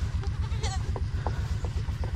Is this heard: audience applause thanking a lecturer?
no